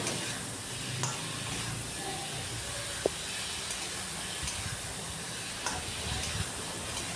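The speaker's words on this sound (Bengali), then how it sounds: "এটা আরও কিছুক্ষণ আমি কষিয়ে নিচ্ছি" Hilsa fish curry with potato and tomato being sautéed in a pan: a steady, close sizzling hiss with light stirring scrapes and an occasional tick, no talk.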